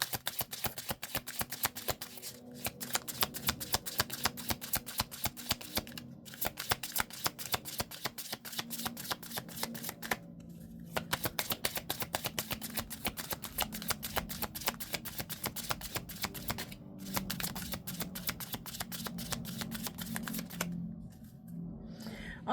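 Archangel Michael oracle cards are shuffled close by in long, fast, riffling runs of rapid flicking, broken by a few brief pauses between bursts.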